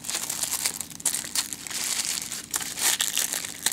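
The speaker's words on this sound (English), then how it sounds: "Let's pop these snaps open." A package being handled as its snap fasteners are popped open, giving irregular crinkling, rustling and crunching bursts close up with no talking.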